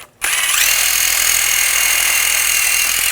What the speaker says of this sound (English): Now I'm just going to clean up some of this corrosion. I'm going to use a wire brush.